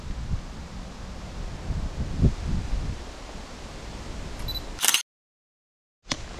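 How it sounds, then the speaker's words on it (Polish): Strong wind roars against the microphone in a forest during mushroom picking, a rough, gusty rumble that runs steadily, drops to silence for about a second, then returns. "Przepraszam bardzo za wiatr i za jakość, ale no wiatr mamy taki."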